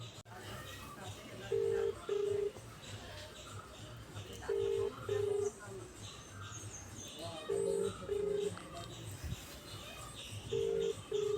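A phone call goes out with a ringback tone repeating as paired beeps about every three seconds, while people talk quietly nearby.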